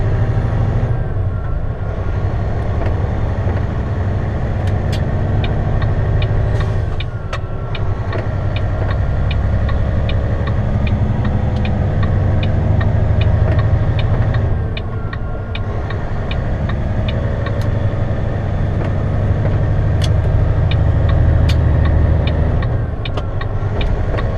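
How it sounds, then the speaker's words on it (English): A heavy haul truck with a 4:10 gear ratio pulls under load, its engine droning loud and steady throughout with a constant low rumble and faint regular ticking, and no talk. "the truck pulls great with this 4:10 ratio"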